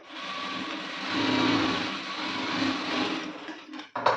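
A sewing machine stitching a blouse runs in one continuous, steady whir close by, swelling slightly mid-run, then stops with a couple of sharp clicks at the end.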